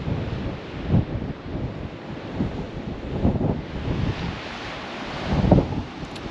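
Ocean surf rolling in below the Bunda Cliffs on the Nullarbor, heard from the clifftop as a steady broadband rush with wind buffeting the microphone and a few louder swells breaking at intervals.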